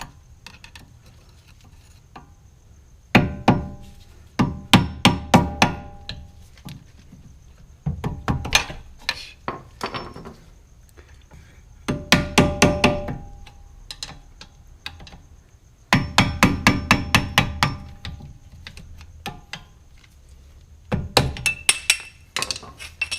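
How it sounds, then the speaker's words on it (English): Bursts of sharp metallic tapping come in repeated clusters, several quick strikes each, separated by quiet pauses, as a hammer drives a screwdriver to remove a cover on a Honda Civic's rear suspension. "remove this cover. Use a screwdriver and a hammer."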